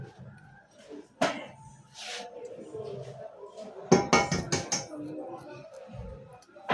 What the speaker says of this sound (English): So now I'm going to go in with my eggs